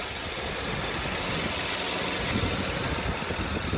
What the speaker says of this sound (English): now that we kicked it up a little bit, you can hear the auxiliary fan running.